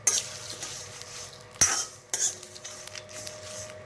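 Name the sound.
dry-roasting cumin and fenugreek seeds in a pan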